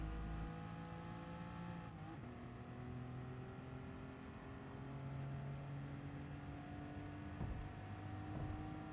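A race car in Gran Turismo Sport on the Tokyo Expressway South Outer Loop sounds as a steady, droning engine note that rises gradually under gentle acceleration, faint and unbroken, with no talk.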